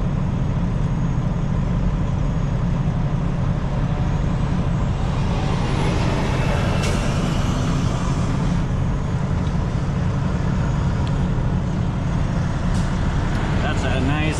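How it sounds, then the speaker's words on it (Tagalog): A heavy-haul truck carrying a big transformer on a six-line trailer rumbles steadily and loudly for the whole stretch, engine drone mixed with road noise, with talk faintly underneath. "That's a nice mammoth truck."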